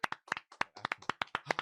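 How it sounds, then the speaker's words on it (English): A studio audience claps in several quick bursts of applause, crisp hand claps repeating in an uneven rhythm with short gaps between them, fairly close and with no talking over it. "Clap it up for our 100th episode."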